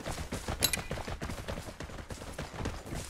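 Gunfire in the shooter game Vigor, rounds pinging and cracking against a rooftop in a dense, continuous stream of quick overlapping impacts and shots, fairly loud and close, with one sharp metallic ping standing out.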